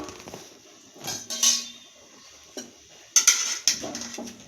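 A metal lid set onto a cooking pot during preparation of coconut milk rice in a home kitchen, giving a few sharp clanks and clinks, close and moderately loud, with brief pauses between the knocks.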